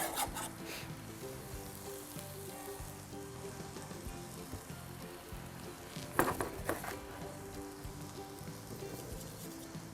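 Onion tossed onto lean ground turkey sizzles steadily in a hot pan, a continuous frying hiss with a brief louder burst partway through as it is stirred.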